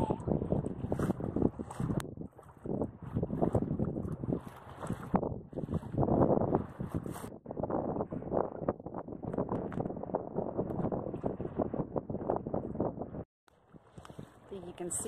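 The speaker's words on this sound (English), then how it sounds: "It's been giving us the wind we need in order to sail down the Biscayne Bay and head down into the Keys." Steady wind noise buffets the microphone aboard a sailboat running down Biscayne Bay toward the Keys, a continuous rushing roar with brief dips, and people talk over it throughout.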